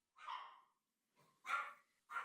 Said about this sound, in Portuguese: Os latidos das cachorrinhas, eles estão fadados a parar em algum momento